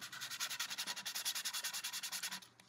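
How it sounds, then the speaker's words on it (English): A glass bottle being sanded by hand, with about twenty rhythmic rasping strokes back and forth, close and steady, fading out at the end. "And I'm sanding up and down and side to side all over the bottle."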